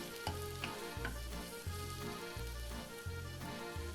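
Chopped shallots and Bella mushrooms fry in olive oil, giving a steady, soft sizzle broken by regular stirring scrapes and clatters at roughly half-second intervals.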